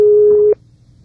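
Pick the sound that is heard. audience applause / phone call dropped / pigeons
phone call dropped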